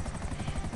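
A low-flying aircraft in the video game GTA V, a steady loud rotor-like drone with a rumbling pulse that holds throughout the brief moment.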